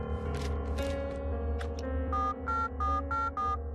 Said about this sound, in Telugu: రింగు వెళ్తోందయ్యా.